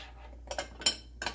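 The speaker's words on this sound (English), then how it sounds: "And I'm just stirring it up, right?" A spoon stirs melted butter and walnuts in a bowl, giving a few separate clinks and scrapes against the dish over a faint steady background.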